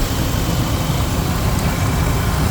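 A Ford 5.4L 2V V8 runs at a steady idle while warming up, a loud close rumble that stays even throughout with no talking.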